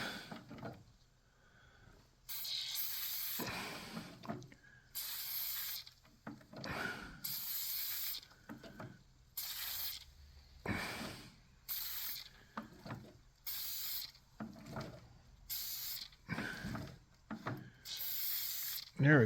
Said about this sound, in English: And I'm going to lube this chain. It's a foamy kind of,